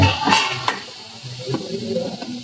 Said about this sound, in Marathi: कांदा आपल्याला परतून घ्यायचं मस्त की व्यवस्थित